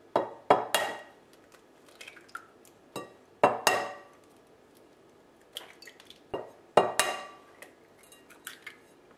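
Eggs clinking into a glass salad bowl for a Corsican fiadone dessert, a series of sharp glassy knocks and clatters arriving in irregular clusters, close and fairly quiet with no talking.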